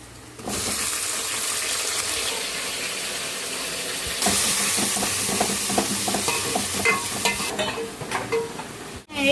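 Onions, tomato, green chilli and ginger paste frying in a pan for chicken tahari, a continuous loud sizzle with scraping stirs and clatter, growing brighter midway before cutting off abruptly at the end.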